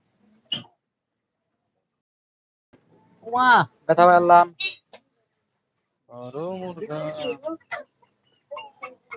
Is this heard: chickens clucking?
yes